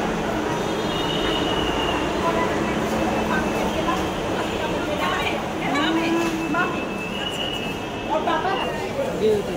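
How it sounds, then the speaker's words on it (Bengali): A metro rail train rumbles steadily throughout with faint wheel squeals and brief tonal whines, under a background of passenger chatter and occasional nearby voices. "metro rail"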